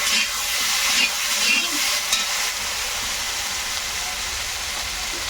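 Flat beans and potatoes fry in a pan with spices, giving a steady loud sizzle and hiss that fades slightly toward the end, with no talking.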